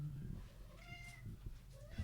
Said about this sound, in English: Cats are going mental.